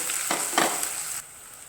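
Crushed pepper, cumin and dried red chillies crackle and sizzle sharply in hot oil for coconut milk rasam, with a couple of bursts of spitting, then the hiss drops away abruptly.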